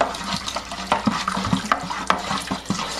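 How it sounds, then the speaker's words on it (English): Stirring of a chocolate raspberry port wine kit in primary fermentation after bentonite is added, with steady sloshing liquid and repeated scraping knocks against the fermenter, close and continuous. "I'm going to be continuing to stir"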